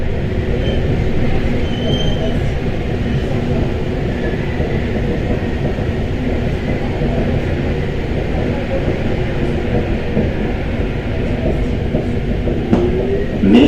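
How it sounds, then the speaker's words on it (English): A Paris Metro line 4 train rumbles through a tunnel at slow speed on a curving track, a loud continuous low roar with steady wheel clatter and a brief squeal near the end. "the train has to slow all the way down to a very slow speed due to a wiggle in the tracks"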